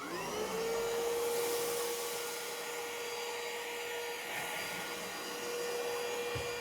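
SVHT cordless vacuum cleaner running over carpet, a close, loud whirring motor whine that starts up, holds a steady pitch and varies slightly in tone as the head pushes across the pile, with no voices.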